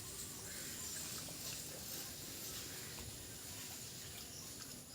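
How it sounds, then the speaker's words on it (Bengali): Footsteps slosh through shallow standing rainwater in a flooded vegetable garden, soft and faint, with a steady low watery trickle and splash and no talking. "আমি এখন জলের উপর দিয়ে হেঁটে হেঁটে যাচ্ছি"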